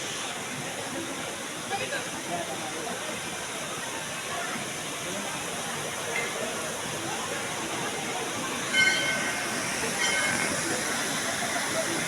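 Clear stream water rushes steadily downhill over stones on a pilgrimage route to Vaishnodevi, a constant broadband wash with a faint tone above it, continuous through the clip.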